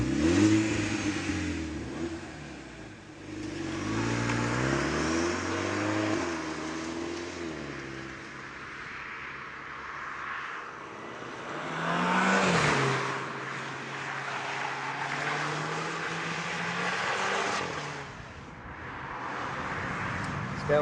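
VW Polo GTi with a 1.4 litre turbocharged and supercharged engine accelerating hard through repeated gear changes, engine note rising and falling loudly and close for about twenty seconds, no speech.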